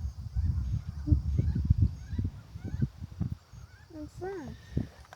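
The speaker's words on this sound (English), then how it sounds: "Oh, it's a duck." A duck gives a few honking quacks nearby outdoors, brief calls standing out over a low background of people talking and rustling.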